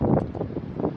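Wind near the ocean on the Welsh coast buffets the microphone in a low, rumbling gust, steady and blustery throughout the short moment.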